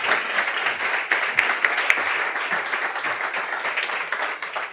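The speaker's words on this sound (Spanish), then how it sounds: "Un aplauso, por favor." Audience at an award ceremony during the ClosinGap Equality Summit gives a round of applause, dense continuous clapping from many hands at a steady level, with no talking over it.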